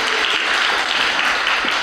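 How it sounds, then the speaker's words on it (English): An audience at a symposium on World War I and World War II artifacts gives a loud, steady round of applause, a close, dense wash of clapping with no gaps. "First, I want to give Monty Hom a round of applause."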